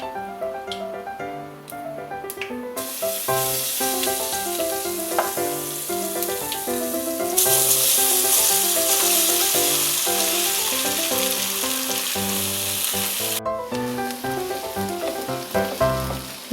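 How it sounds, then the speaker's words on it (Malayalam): Spicy masala-coated kozhukattai rice dumplings fry in oil with popped mustard seeds, a loud continuous sizzle that swells midway, accompanied by background music. "ഇനി നമുക്ക് ഈ മസാലയിൽ പൊതിഞ്ഞു വെച്ചിരിക്കുന്ന കൊഴുക്കട്ട ഇട്ട് കൊടുക്കാം"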